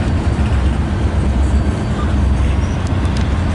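A freight train moves through a rail yard with a loud, steady low rumble and rolling rail noise, close by and continuous.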